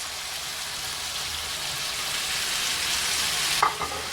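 Shrimp, oranges and snow peas stir-frying at high heat in a pan, a steady dense sizzle throughout with a brief louder clatter of stirring near the end; no talking.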